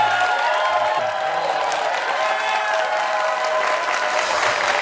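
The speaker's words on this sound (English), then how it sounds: "Give this brother a round of applause" Studio audience applauding on a talk show, a dense steady wash of clapping held loud and even throughout, with no talk over it.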